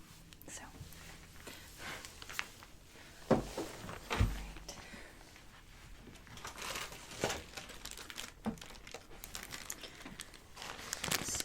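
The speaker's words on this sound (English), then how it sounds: "so here we have the guards in this little crinkly package" Crinkly plastic package holding hair clipper guards, handled close up with soft scattered crackles and a couple of sharper thumps as it is moved, quiet and intimate throughout.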